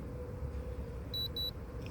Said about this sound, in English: Beeps there. Kicked on the sprinklers, the pump.